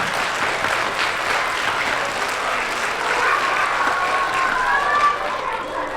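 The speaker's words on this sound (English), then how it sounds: "All right, everyone start clapping. Keep going, keep going." A live clown show audience claps together in a sustained, even round of applause that carries on without a break, filling the room at a steady loud level.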